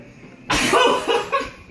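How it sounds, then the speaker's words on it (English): A person sneezes explosively in quick succession, a sudden loud burst followed by a second, breathy fit, close to the microphone. "Those are sneezes, by the way, not coughs."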